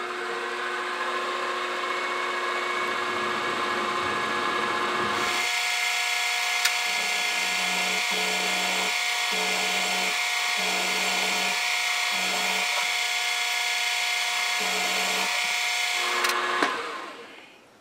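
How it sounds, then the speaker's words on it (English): A spot drill on a milling machine spots a hole for a vise stop, making a steady, loud cutting whine with a low hum that pulses on and off before cutting out near the end. "Just spotting the last hole."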